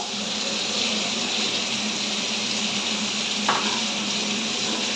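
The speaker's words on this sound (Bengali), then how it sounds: "দেখো বেগুনটা ভেজে নিয়েছি," Eggplant sizzles in hot oil in a frying pan, a steady close crackling hiss with one brief clink of a utensil.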